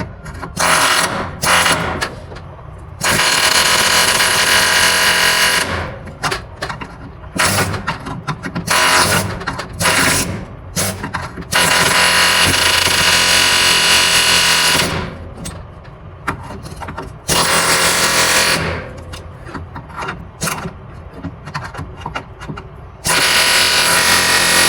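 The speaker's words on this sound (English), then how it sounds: "We're going to use this air hammer" An air hammer pounds at rusted floor supports on a 1965 Ford Mustang, running in long loud rattling bursts separated by short pauses.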